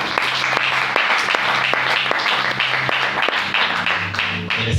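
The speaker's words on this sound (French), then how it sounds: "Acclamez pour la gloire." A church congregation bursts into sustained applause after a sermon, a dense, steady wash of many hands clapping together and filling the room.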